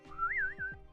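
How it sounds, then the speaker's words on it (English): A person whistles a short, clear melodic phrase that rises and falls in pitch, close and fairly quiet, with a few soft low thumps underneath. "Okay, whistles."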